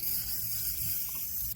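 Penetrating lubricant sprayed onto the door handle of a 1987 Chevrolet S10 Blazer, a steady, close hiss that runs unbroken for the whole moment with no talking over it.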